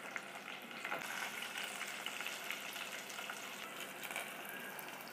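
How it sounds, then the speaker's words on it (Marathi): Chopped green chili, spring onion and tomato sizzle in a pan, a dense continuous crackling fry at close range, steady and unbroken with no talk. "बघा, आपलं सर्व जिन्नस छान फ्राय होते"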